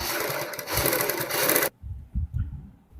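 A sewing machine stitches a designer kurti, a fast, steady mechanical whir running close for over a second and a half before stopping, followed by fabric handling.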